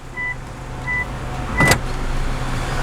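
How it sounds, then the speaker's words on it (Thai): Car power windows move down and up on both sides after parking, a faint motor whir under a steady idle hum, with a short sharp thump or click midway. "นี่ครับเอากระจกลงแล้วก็ต้องเอากระจก เอากระจกขึ้นทั้งสองฝั่งนะครับ"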